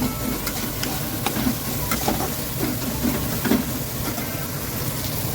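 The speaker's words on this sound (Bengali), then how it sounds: "এবার এটাকে ভালো করে ভেজে নেব" Onion frying in oil with a little salt gives a steady, close sizzle and crackle throughout, with faint scattered clicks and no talking.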